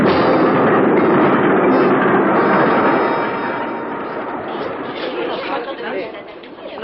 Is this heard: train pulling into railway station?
yes